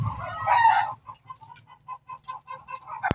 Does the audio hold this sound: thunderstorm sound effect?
no